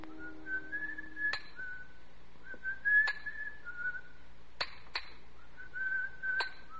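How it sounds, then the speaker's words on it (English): A person whistles a cheerful tune nearby at a monumental mason's yard working marble, broken by sharp metallic taps of a hammer striking stone at intervals. "From the yard itself came a cheery whistle"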